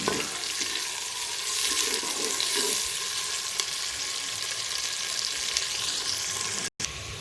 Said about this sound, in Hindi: घी गर्म हो गया तो इसमें प्याज ऐड कर दूँगी। प्याज को मैं ब्राउन करूंगी।